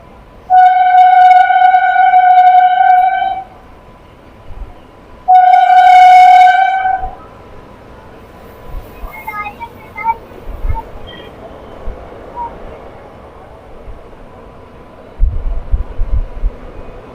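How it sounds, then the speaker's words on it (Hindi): Three-coach Najibabad–Kotdwar passenger train sounds two long, loud horn blasts, then rolls on with faint clattering and rumble, ending in a closer burst of wheel noise on the tracks. "केवल 3 कोच की ये ट्रेन अपने इस 24 किलोमीटर के सफ़र की तरफ बढ़ चुकी है।"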